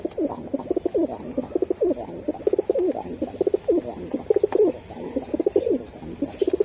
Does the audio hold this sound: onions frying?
no